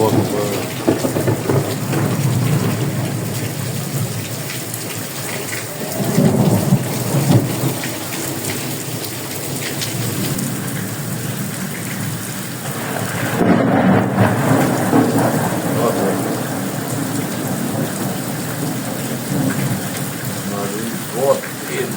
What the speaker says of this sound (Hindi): बहुत तेज बारिश हो रही है और जबरदस्त बारिश है।